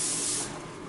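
An aerosol can gives one short, steady burst of spray indoors near a door, a close, loud hiss that eases off slightly toward the end, with no talking.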